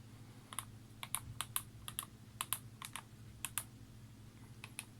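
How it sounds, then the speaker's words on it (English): Tiny computer keyboard used with a Raspberry Pi 3 A+: quiet, crisp key clicks in short irregular bursts over a low electrical hum. "I'm using a tiny keyboard."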